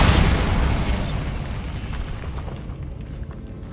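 In Hogwarts Legacy, a Bombarda spell goes off as one loud, booming explosion right at the start, its rumble and crackle fading away over the next few seconds.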